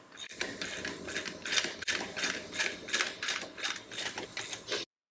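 Rapid rhythmic ratchet clicking in uneven bursts as a spring compressor tightens a coil spring during suspension installation on a 1967 Shelby GT500 Mustang restoration, close and loud without any voices.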